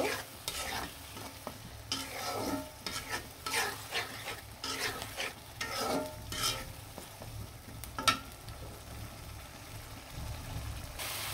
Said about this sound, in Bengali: মুগ ডালগুলো দিয়ে ভালোভাবে কষিয়ে নিব